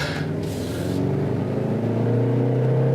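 Engine of a 2018 Jaguar E-Pace revving up, a loud close raspy growl that rises steadily in pitch over a few seconds.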